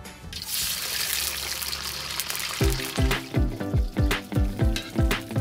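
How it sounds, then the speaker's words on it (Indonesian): Baby fish fry in plenty of hot oil with a bright, continuous sizzle. Later, the sizzle turns into a run of regular, rhythmic crackling bursts, loud and close. "Teknik menggoreng baby fish sama seperti menggoreng ikan, butuh minyak yang banyak dan jangan terlalu sering dibolak-balik biar ikannya nggak lengket."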